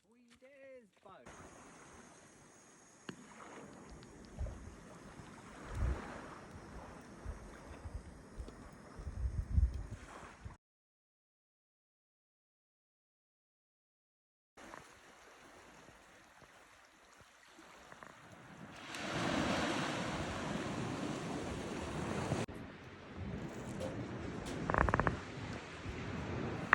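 A boat runs across choppy water off Stewart Island in New Zealand, with a continuous engine drone, wind buffeting the microphone and slapping waves, interrupted by a few seconds of silence before the rushing noise returns louder.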